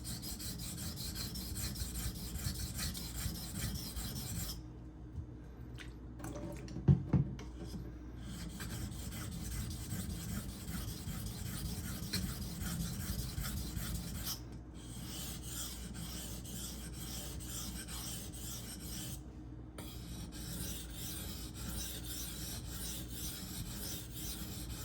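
An ESEE Izula II knife rasps steadily against a 2K whetstone in repeated strokes, with a few brief pauses between passes and no talking.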